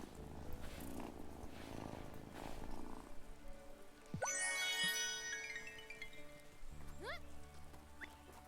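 A cat purrs softly in the life-sim video game Wylde Flowers, a low rumbling under gentle rain-like ambience, followed by bright chiming game tones and faint tinkles.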